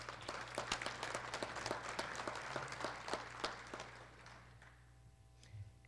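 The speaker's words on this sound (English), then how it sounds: "Let's give them a round of applause." A college audience at a State of the College address applauds with scattered, distinct claps that thin out and fade after about four seconds, fairly quiet and heard from a distance.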